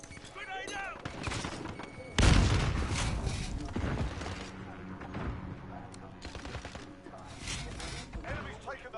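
A grenade blast in Modern Warfare bursts loudly after brief quieter battle noise, followed by continuing gunfire and rumbling combat, with voices talking over the action.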